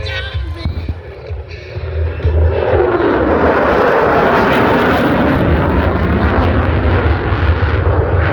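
F-35C Lightning II fighter jet flying a night airshow display at Sun 'n Fun 2025, a loud, broad jet roar swelling up after a quieter start and holding at full intensity, distant and rumbling, with no clear talk.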